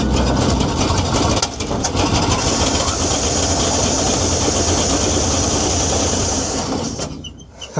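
An abandoned 1942 Ford CMP truck engine runs loud and rough right nearby after starting, a dense continuous roar with some uneven stumbling that drops away abruptly near the end.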